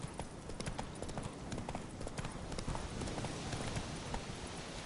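A horse gallops in The Witcher 3 video game, its hooves pounding in a dense, rapid, continuous clip-clop that stays loud and close throughout, with no talking.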